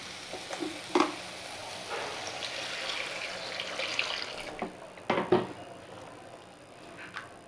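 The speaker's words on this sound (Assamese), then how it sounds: "এতিয়া মই ইয়াতে একেবাৰে গৰম পানী দিম" Hot water poured into a hot cooking pan of frying brinjal for gravy, a rushing hiss and sizzle for several seconds that fades, followed by a few sharp clinks.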